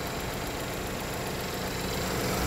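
A 2017 GMC Terrain SLE2 with a 2.4-liter four-cylinder Ecotec engine idles under an open hood, giving a steady, even mechanical hum with a low rumble, close and constant, with no talking.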